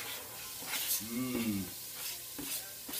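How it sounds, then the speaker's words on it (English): Quiet, steady sizzling of onion frying in a skillet with occasional stirring scrapes, plus a brief faint whine in the background. "It's sizzling."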